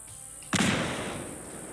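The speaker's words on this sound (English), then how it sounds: "throw a fragmentation grenade at it" A fragmentation grenade detonates near a mini nuke in Fallout 4, giving a single sharp, loud bang with a short decaying rumble, alone.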